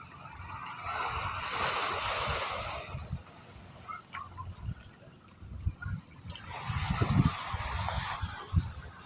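Ocean waves wash in at the seashore, two broad surges swelling and receding with wind buffeting the microphone between them, fairly close and loud with no talk.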